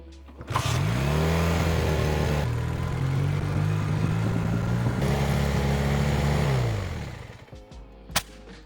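A vintage motorcycle engine, a Honda or Suzuki, revs up and holds a loud, steady high idle for several seconds, then winds down and cuts out, followed by a sharp click.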